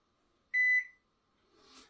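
A single clear electronic beep from a ROSS unit at power-on, steady and fairly loud for about a quarter second, followed by quiet and a faint rustle.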